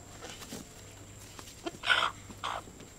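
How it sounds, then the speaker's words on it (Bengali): A goose giving a few short honking calls, two louder bursts near the end, heard fairly close against a quiet outdoor background. "কি রাজহাঁস আনছেন?"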